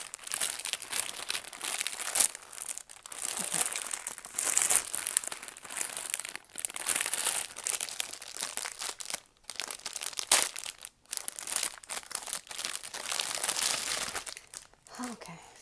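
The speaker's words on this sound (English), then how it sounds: "It comes in this plastic cover, so terrible noise." Plastic cover of a makeup brush pouch from a 24-piece brush set being crinkled and handled, loud, continuous crackling that runs nearly the whole time with brief pauses, no talk over it.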